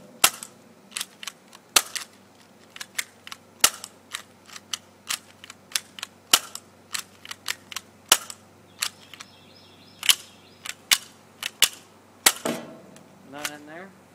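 Sharp, loud cracks from airsoft guns fire one after another at an irregular pace, with short quiet gaps between shots and some faint handling clicks and a brief mechanical rattle near the end.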